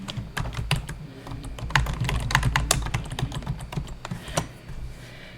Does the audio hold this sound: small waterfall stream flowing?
no